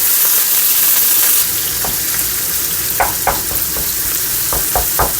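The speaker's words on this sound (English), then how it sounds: "add 240 grams of minced meat straight in there. Let it sizzle" Minced beef, 240 grams, sizzles steadily in a hot pan for a stir fry with gochujang noodles, with scraping stirs and clacks from a utensil breaking it up, close and loud with no talking.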